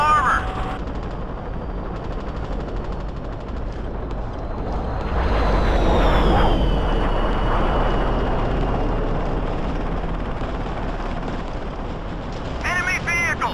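An enemy helicopter in the video game Battlefield 2 drones and swells in the middle of the clip, its rotor and engine roar rising over continuous battle noise with gunfire, while voices call out.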